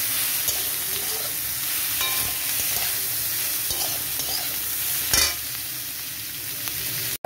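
Kakrol pieces fry in a pan with salt and turmeric, a close, steady oily sizzle with occasional stirring scrapes and a sharper crackle near the end.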